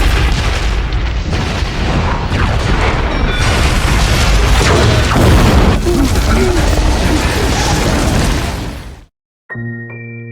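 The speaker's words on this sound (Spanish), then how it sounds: "lo que llevó a la explosión de esta." A loud, sustained explosive roar with crackling debris as a factory explodes fills most of the clip, then cuts off abruptly, followed by a brief musical tone.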